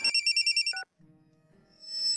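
A telephone rings with a rapid warbling electronic trill that stops abruptly, followed by soft background noise and a faint rising tone.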